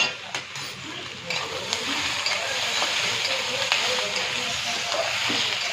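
Poppy seeds and green chillies roasting in a kadhai, a steady dry sizzle and crackle with a few scraping stirs and light metallic taps, close and continuous.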